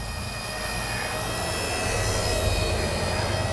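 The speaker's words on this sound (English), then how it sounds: "Just like with the other helicopter, fly it around the backyard." A small scale RC helicopter, K123 or K124, flies around a windy backyard, its rotor and motor making a steady high whine with wind noise, fairly faint and continuous.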